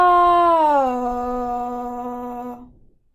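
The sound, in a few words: vocal pitch glide exercise demonstration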